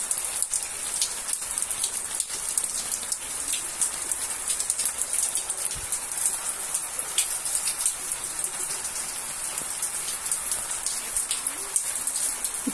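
Steady heavy rain patters on surfaces, a dense hiss with countless drops, constant and close, with no voices.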